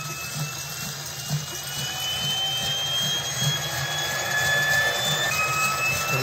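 A small all-metal model turbofan jet engine whines as it spools up, a rising high-pitched tone over a steady roar that grows gradually louder.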